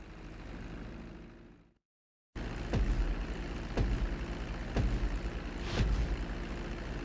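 An airplane on landing approach in the video game GTA 5, a continuous engine drone that cuts out briefly, then returns with rhythmic thumping pulses over the steady roar.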